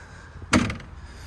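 The cab door of a Doosan DX300LC-7 excavator, broken down in a quarry, is pulled shut with a single solid thud and a brief rattle, close up against a low background hum.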